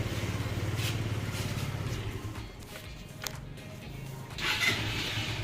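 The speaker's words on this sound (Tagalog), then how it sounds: "Gumana na rin po yung starter niya." A SYM Jet Power 125 scooter, just given a battery jump, has its starter cranking and engine catching, a rhythmic low mechanical chatter that fades into a quieter idle, with a few clicks and a brief burst near the end.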